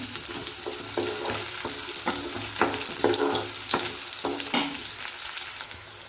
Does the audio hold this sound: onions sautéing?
yes